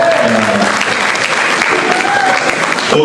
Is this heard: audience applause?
yes